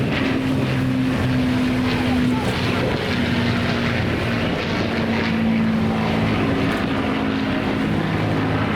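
A Lancaster bomber flies at an airshow, its piston engines and propellers giving a steady loud drone with a humming tone, blended with wind noise and heard throughout without breaks.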